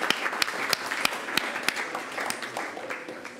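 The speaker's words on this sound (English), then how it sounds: "let's have a round of applause" A brief burst of applause from a small audience, with scattered sharp claps standing out over a steady wash of clapping.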